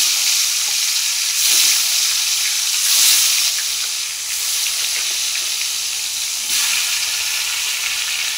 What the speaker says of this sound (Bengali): মাছটা তেলে দিয়ে দেব।